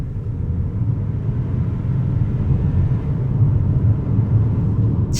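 A Proton X90 SUV accelerates from 50 km/h, heard from inside the cabin as a steady, fairly loud low engine and road rumble without any clear sharp change.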